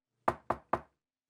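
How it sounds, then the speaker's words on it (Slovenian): Three quick, crisp knocks on the door of a magpie's home up in a tree, evenly spaced and close, followed by silence. "Bibi in Pika sta splezala na drevo in potrkala pri sraki."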